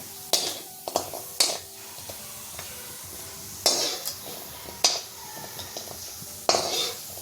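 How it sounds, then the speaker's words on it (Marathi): Whole spices such as turmeric root roasting in oil in a pan over high flame are stirred continuously, with sharp metallic scrapes and clinks of the spoon at irregular intervals over a steady background sizzle. "सतत हलवत राहायचे आपल्याला"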